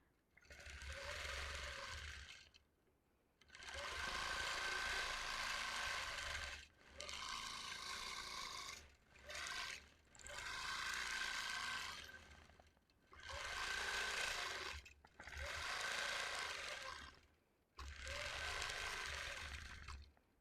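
A longarm quilting machine stitching a Lone Star quilt, its steady rasping mechanical hum running in several sustained passes of a few seconds each, separated by brief pauses, close and fairly quiet with no talk.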